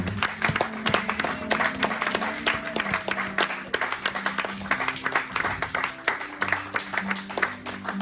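Church congregation applauding the newly baptised, steady dense clapping from many hands filling the room, with voices and tones under the applause.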